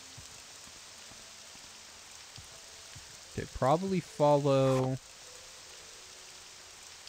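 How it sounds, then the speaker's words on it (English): Steady rain patters in the video game Morrowind, a soft continuous hiss with someone talking briefly over it partway through. "We're just gonna deal with the rain."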